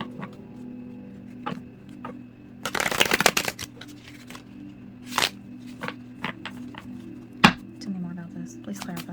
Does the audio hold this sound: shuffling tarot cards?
yes